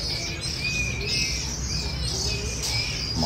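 A caged lửa bổi songbird in a large wire cage gives repeated high chirps and whistled notes, fairly close, over a steady background hiss with no talk.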